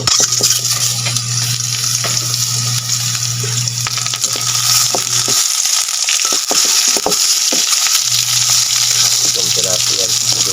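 Egg frying in a pan at home makes a loud, dense sizzle throughout, with scraping and clattering of a utensil and a low steady hum that drops out midway.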